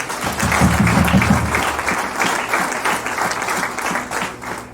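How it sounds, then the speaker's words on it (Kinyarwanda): A congregation at a church service breaks into loud, sustained applause, dense clapping that swells early and then carries on steadily to the end with no speech over it. "Komera Imana amashyi menshi"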